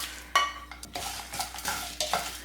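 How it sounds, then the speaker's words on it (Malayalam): Cloves, cinnamon, cardamom and dried red chillies dry-roast in a pan, stirred with repeated scraping and rattling strokes, close and fairly loud, with a faint sizzle underneath. "ഇതെല്ലാം കൂടി നമുക്ക് നന്നായിട്ടൊന്ന് റോസ്റ്റ് ചെയ്തെടുക്കണം."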